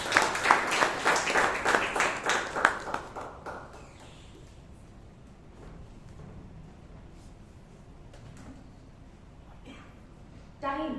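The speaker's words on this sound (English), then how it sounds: "please welcome with a big round of applause, Palak Mehta" A Toastmasters meeting audience in Bangalore gives a round of applause for a speaker being introduced, loud dense clapping for about three seconds that quickly dies away, followed by a quiet room with a few scattered claps near the end.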